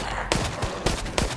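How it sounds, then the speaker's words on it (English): Gunfire in the multiplayer game Resident Evil: Resistance, three sharp shots spaced about a third of a second apart over a dense, noisy game background. "I was shooting him."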